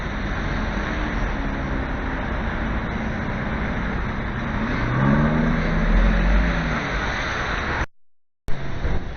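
Two Aston Martin DB11 cars pull away on an Edinburgh street, a steady engine rumble rising as one accelerates, swelling to a louder, deeper pass near the end before cutting off abruptly.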